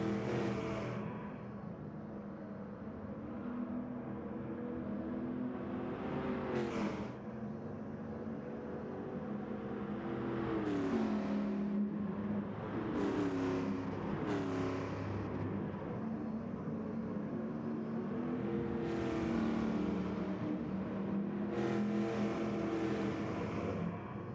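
Race car engines roaring in Gran Turismo Sport at Kyoto Drive Park, a Camaro among them, slipstreaming down a straight: a continuous loud drone with rising pitch sweeps as cars accelerate and shift, occasional sharper bursts, steady throughout.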